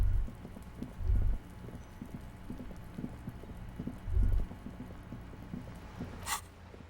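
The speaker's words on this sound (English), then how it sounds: "All around you, rain keeps falling down." Steady rain falls across a video game scene with a constant soft hiss, punctuated by a few dull low thumps and a brief bright splash near the end.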